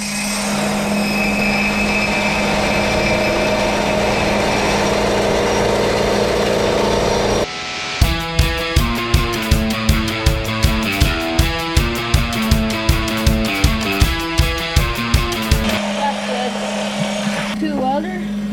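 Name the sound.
grinder grinding metal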